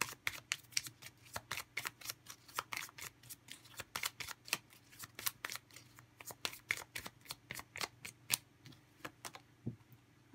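Tarot cards are shuffled by hand for a reading, producing a long run of quick, crisp riffling snaps and flicks at an irregular rhythm, faint and close with no talk.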